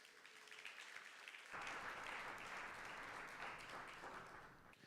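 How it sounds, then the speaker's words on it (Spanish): Church congregation applauding God during a service, faint room sound at first, then a sudden burst of sustained clapping that holds steady and thins slightly toward the end. "Denle un aplauso al Señor."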